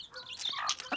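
Chickens gathering to be fed garden tomatoes cluck and squawk close by in quick, excited bursts that fill the whole short moment.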